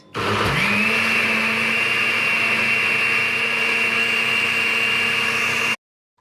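A blender mixing bean batter for moi moi whirs at a steady high pitch for about five seconds, loud and close, then cuts off abruptly.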